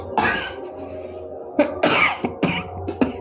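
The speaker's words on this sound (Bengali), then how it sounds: "বন্ধুরা কাশি হচ্ছে" A person with a bad cold coughs several times in quick, harsh bursts, close and fairly loud, with brief pauses between the fits.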